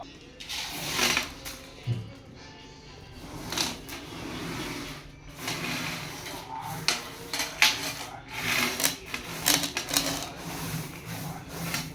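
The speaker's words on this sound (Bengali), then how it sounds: "পাথরগুলিকে অ্যাকুরিয়ামের মধ্যে ঢেলে দেওয়া হচ্ছে" Stones are poured into a freshly cleaned new aquarium, making intermittent gritty rattling and scraping at close range while a voice talks now and then.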